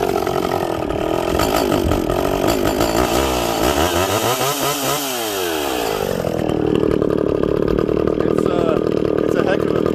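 A John Deere 66SV two-cylinder chainsaw runs loud and close, its raspy engine note dipping and swinging through revs midway before settling back to a high, steady roar.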